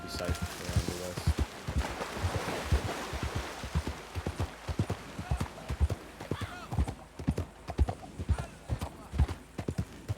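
Rapid hoofbeats of a horse galloping in a roleplay video game, a steady clattering rhythm running throughout, with game ambience underneath.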